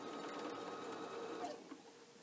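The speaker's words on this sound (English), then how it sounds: "I am going to back stitch this." A domestic sewing machine back stitches a pillowcase seam at a 1.8 stitch length, giving a steady close whirring run that stops abruptly near the end, with no voices.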